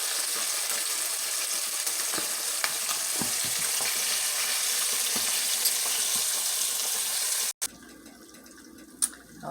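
Mustard-coated chicken wings frying in hot oil, a steady, loud, dense sizzle with crackling pops that continues throughout, then cuts off abruptly to quieter room sound with a few clinks near the end.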